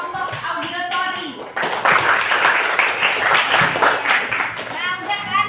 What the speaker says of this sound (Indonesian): tepuk tangan dulu untuk kelompok Audiotori